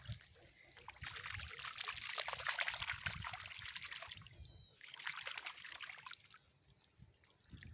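Roots of a basmati rice seedling are rinsed in water, making sloshing, splashing and dripping sounds in uneven bursts, close by, with a faint voice in the background.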